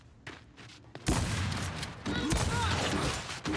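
A sniper rifle shot in the Gears 5 video game lands as a sharp, loud crack amid a busy burst of gunfire and in-game noise.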